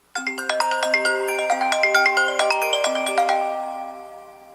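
The exclusive default ringtone of the iPhone X plays alone: a bright, plucked, marimba-like melody of quick chiming notes that rings clearly for several seconds and fades out at the end.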